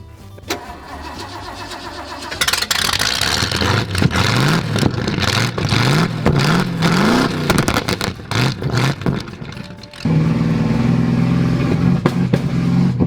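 A car engine revs repeatedly in rising bursts with sharp popping cracks from the exhaust, loud and close, then settles into a steady idle.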